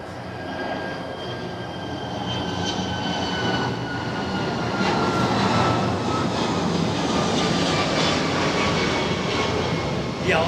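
A jet aircraft on approach to Miami International Airport, heard as a steady, broad engine roar that swells gradually and stays loud throughout, with no voices over it.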